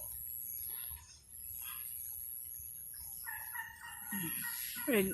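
A Rhode Island mix hen makes soft clucks and rising calls near the end, over a quiet outdoor background with a faint steady whine.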